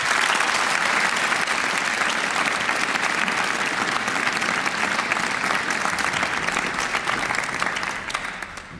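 Sustained applause from a studio audience at a BBC Radio 2 young choristers' grand final, a dense, steady wash of clapping that holds for several seconds and then begins to fade at the end.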